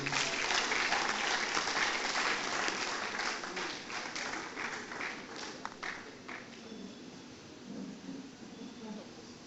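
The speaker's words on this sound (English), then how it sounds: "Another round of applause, please." Conference audience applauding at an accountants' annual conference, a dense, steady wash of clapping that starts loud and gradually thins and fades over several seconds, with no speech over it.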